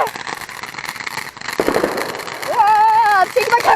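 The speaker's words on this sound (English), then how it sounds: "Oh, it's another firework!" Video game fireworks go off in quick succession, crackling and popping with a bright whistling burst near the end; voices can be heard over the explosions.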